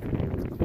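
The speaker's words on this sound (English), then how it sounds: "Yeah, it's really windy." Strong wind buffets the microphone on a cold New York City beach, a brief loud low rumble with no talking.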